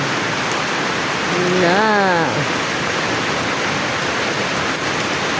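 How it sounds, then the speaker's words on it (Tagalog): Heavy rain pours in a dense, steady hiss throughout, with a brief spoken word partway through. "Oh, sobrang lakas ang ulan."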